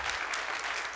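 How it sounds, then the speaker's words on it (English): A conference audience claps in a brief, dense burst of applause, steady and fairly loud from start to end with no voices over it. "Do we want to clap for them, even though we've already done it? Yeah, let's do that."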